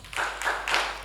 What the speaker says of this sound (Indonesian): sekarang kita tepuk diam dulu yuk